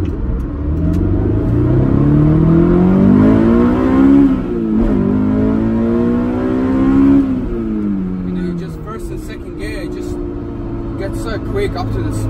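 A Honda S2000 AP1 with a VTEC engine and close-ratio six-speed gearbox revs and accelerates, engine pitch climbing, dropping at a shift, climbing again, then settling to a lower rumble, with someone talking over it.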